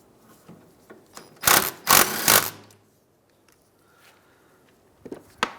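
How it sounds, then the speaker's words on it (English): An impact wrench snugs 14 mm bolts on a 2003-2011 Honda Element during rear wheel bearing work, firing three loud, rapid buzzing bursts close by, followed by quiet workshop handling noises. "we're going to come in with our impact and just snug them up"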